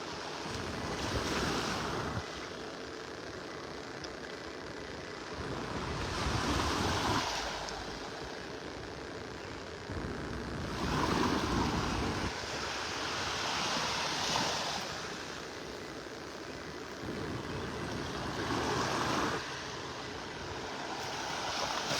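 Ocean water rushes out through a beach pass in North Naples on an outgoing tide, a continuous broad wash with surges every few seconds and wind buffeting the microphone, and no voices.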